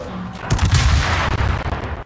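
Heavy cruiser main guns firing shells in the naval video game World of Warships, a loud booming salvo erupting after a brief quiet lead-in, with rumbling blasts sustained for about a second and a half.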